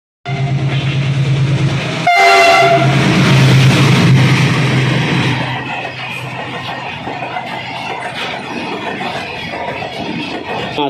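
A toy train runs with a loud, sustained horn blaring for a few seconds, then rolls on with a steady rattling, clattering rumble close by.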